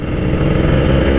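A Kawasaki Ninja two-stroke motorcycle engine runs close by in a short, loud, steady burst with a raspy buzzing drone and no voices.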